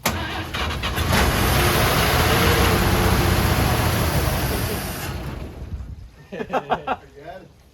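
A 1953 Chevy 3100 pickup engine, sitting unstarted for over 40 years, cranks loudly and steadily for about five seconds, then stops; a few short voice bursts follow near the end.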